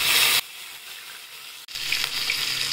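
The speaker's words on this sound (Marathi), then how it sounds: "आता आपण कढीपत्ता टाकूया" Curry leaves dropped into hot oil already crackling with mustard seeds and cumin, a loud burst of sizzle that briefly drops then surges back as a steady hiss, close up with no talking.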